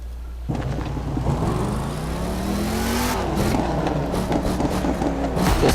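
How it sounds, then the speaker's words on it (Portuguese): Mustang SRT muscle car in the racing game The Crew 2 revs and accelerates, its engine note climbing steadily and loud, close up with a constant low rumble and no talk. "Barulho de muscle car, certo?"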